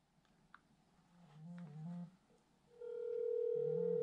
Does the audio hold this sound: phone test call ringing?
yes